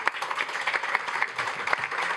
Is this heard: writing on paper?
no